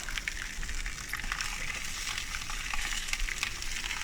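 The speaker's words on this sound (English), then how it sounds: "that skillet's good and hot and will do a good job of cooking those sausages" Sausages frying in a hot skillet over a charcoal grill: a steady, dense crackling sizzle with fine pops throughout, close and constant, with no talking.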